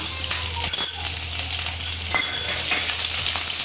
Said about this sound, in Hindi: इसमें इसको फ्राई करेंगे।